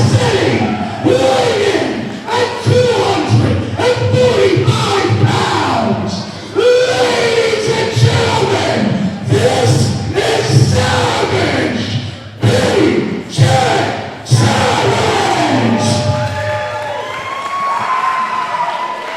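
A wrestling crowd in Toms River, New Jersey, cheers for a hometown heavyweight champion, with loud rhythmic chanting and shouting voices rising and falling close by, plus occasional thuds, through most of the stretch.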